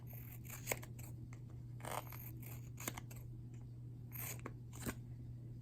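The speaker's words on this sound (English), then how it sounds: "So just take your scissors" Scissors snip through paper in a quick series of crisp cuts, close and quiet over a low steady hum.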